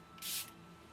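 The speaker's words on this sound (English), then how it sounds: "This Charlotte Tilbury Airbrush Flawless Setting Spray is amazing." Charlotte Tilbury Airbrush Flawless Setting Spray spritzed once, a single short close hiss of mist lasting about a quarter second against near silence.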